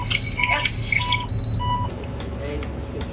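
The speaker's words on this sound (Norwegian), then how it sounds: "Det gikk en alarm her, så jeg måtte bare legge inntil for å få nullstilt." An alarm sounds aboard a boat, a series of loud repeated electronic beeps that grow sparser and fade under the steady hum of the boat's systems, with faint voices in the background.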